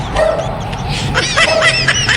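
Dogs barking and yipping at a cemetery, several excited high-pitched barks close by over loud, continuous background noise.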